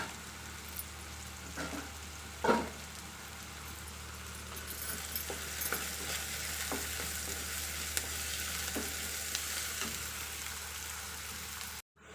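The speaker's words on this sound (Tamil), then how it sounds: "வெங்காயம் நல்லா வதங்கிடுச்சு." Onions sauté in hot oil in a pan for Chettinad chicken kulambu, giving a continuous close sizzle and frying hiss with a few scrapes and stirring knocks, no voices, ending abruptly.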